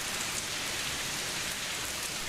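Steady, even rainfall hisses without pause, a dense wash of drops on surfaces that stays constant throughout, with no thunder and no voices.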